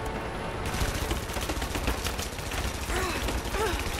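Helicopter machine gun fire in Rise of the Tomb Raider rattles as a rapid, unbroken stream of loud shots with mechanical clatter, continuous across the whole stretch.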